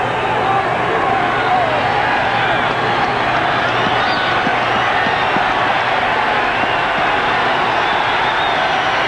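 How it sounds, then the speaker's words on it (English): Big football crowd at Mile High Stadium in Denver during a 1991 Rams game, a dense continuous roar of cheering and clapping that swells around a commentator talking over it. "Crowd starts up, and they can start up big time here at Mile High"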